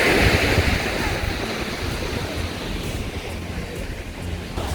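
Waves break steadily on Rajbagh Beach in South Goa, a loud continuous surf wash with wind rushing across the microphone, no voices present.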